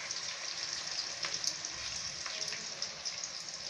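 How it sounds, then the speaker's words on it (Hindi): Ground onion masala frying in a pan, a steady, fairly soft sizzle with small crackles and pops throughout, no talk over it. "ई प्याज के पीस कऽ दऽ रहल छी मसाला, आ भुजै छियै।"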